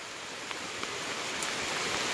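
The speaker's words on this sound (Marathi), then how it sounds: "पाऊस पडतोय" Steady rain falling outdoors, a dense even hiss with a few individual drops standing out, moderately loud and with no voices.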